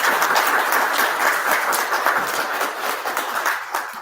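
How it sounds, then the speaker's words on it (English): Audience applause at a school board candidate forum, a dense, even wash of many hands clapping that holds steady throughout, fairly loud and without voices. "Let's welcome them with a round of applause."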